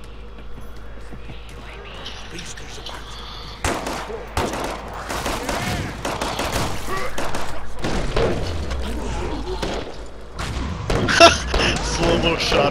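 Rapid gunfire bursts in the video game Killing Floor 2, a series of sharp, loud shots and booms that come in irregular clusters, some in quick succession, over a continuous background of game noise.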